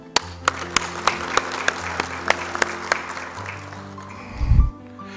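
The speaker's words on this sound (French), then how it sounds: "des applaudissements." An audience at a medical faculty event in Sétif claps in sharp, separate, evenly spaced strikes over a faint tonal background, ending in a brief low thump.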